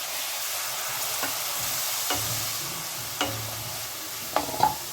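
Ground tomato paste hits frying spices in a pan for a Bengali tel koi curry, a steady hiss of sizzling oil with a few soft scrapes and knocks of a spatula stirring, close and continuous.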